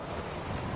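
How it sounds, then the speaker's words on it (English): Steady gusting wind in the snowy mountain horror game Kholat, a loud, dense roar that fills the moment with no talk. "Oh, it's so windy."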